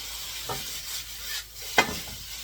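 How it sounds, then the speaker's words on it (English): Noodles with soy sauce stir-fried in a pan, a faint sizzle under gentle tossing, with two short scraping knocks of the utensil, one sharper, standing out. "You want to make sure the soy sauce and all the ingredients stir fry evenly."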